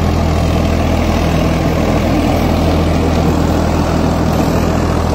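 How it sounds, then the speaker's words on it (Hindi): A Farmtrac 65 EPI tractor drives an 8-foot rotavator through soil, its engine a loud, steady, close drone that holds without a break. "यहाँ देखते हैं ट्रैक्टर कितने RPM ड्रॉप करेगा भाई।"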